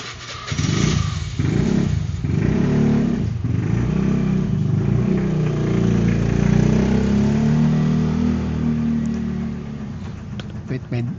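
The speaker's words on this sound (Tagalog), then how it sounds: "may motor na maingay" A loud, rough motorcycle engine runs nearby for several seconds, revving and idling with a raspy drone, with faint voices underneath.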